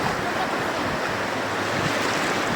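Strong ocean waves surge in a continuous, dense roar of surf and wind at sea, loud and unbroken for the whole stretch with no voices.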